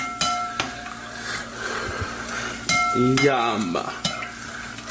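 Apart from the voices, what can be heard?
stirring sauce in a pan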